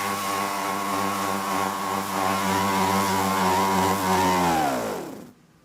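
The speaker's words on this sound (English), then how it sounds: "You'll be able to hear my finger rubbing up against the side of the platter" A finger presses against the side of a spinning Audio Technica AT-LP1240 turntable platter, making a loud, steady motor-like drone whose pitch slides downward near the end before cutting off abruptly.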